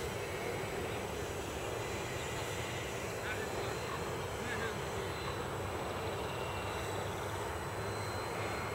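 A Slow V radio-controlled plane flies on its stock NiMH battery, giving a steady, thin motor buzz that blends into constant outdoor wind rumble for the whole stretch, with no clear rise or fall.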